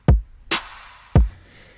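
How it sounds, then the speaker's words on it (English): Hip-hop drum beat with a deep kick, a bright open hi-hat ringing out between the kicks, then another kick, close and punchy with no voices. "another thing that's very common in hip hop is an open hi-hat"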